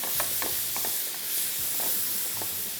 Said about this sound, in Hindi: इसी वजह से मैं इसको थोड़ा सा फ्राई करता हूँ